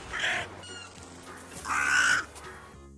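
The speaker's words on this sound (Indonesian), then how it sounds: "crow" A crow gives two harsh caws, the first short and the second longer and louder, heard close over a soft, steady musical tone.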